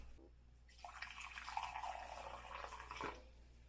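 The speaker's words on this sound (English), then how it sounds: "now we're going to add a cup of steaming hot water to each of them" Steaming hot water pours into bowls in a soft, steady trickle with a few splashes, fairly faint and close, with no talking.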